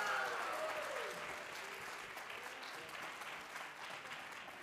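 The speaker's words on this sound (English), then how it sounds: "One more round of applause for our beginning band" A school concert audience gives steady applause for the beginning band, a round of clapping from many hands that starts fuller and settles to an even patter, with a faint voice at the start.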